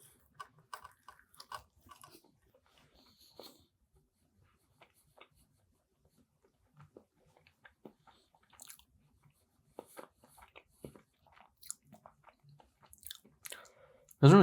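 Close, quiet chewing of a convenience store beef patty, with sporadic soft wet bites and faint squishes amid near silence, ending in a loud handling bump.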